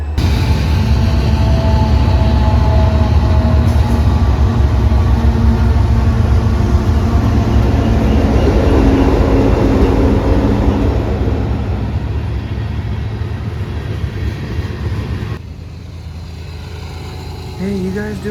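An intermodal train rumbles steadily up close with a deep engine drone and a faint high whine, quieting somewhat toward the end.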